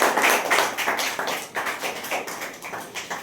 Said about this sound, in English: once again, a nice clap for Anand.